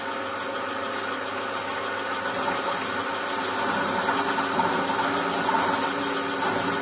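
A machine drilling an experimental hole in metal at about 500 RPM while making a worm-wheel servo, giving a steady, dense mechanical whir with faint knocking texture that holds at an even, fairly loud level throughout.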